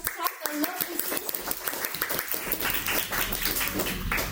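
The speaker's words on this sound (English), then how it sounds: "can you please give him a big applause for that?" Audience applause at a Toastmasters club meeting, steady clapping from a group that carries on for several seconds with voices mixed in underneath.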